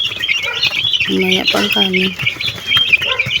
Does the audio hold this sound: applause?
no